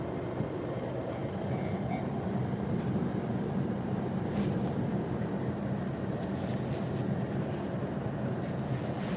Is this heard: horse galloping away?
no